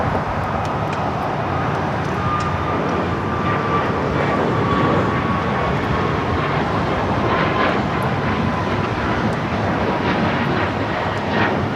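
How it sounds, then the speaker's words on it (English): A Frontier Airbus A320neo jet arriving at LAX airport on the south side gives a loud, continuous broadband engine roar with a faint high whine that stays steady for the whole stretch, with no voices. "Frontier A320neo just arriving here on the south side."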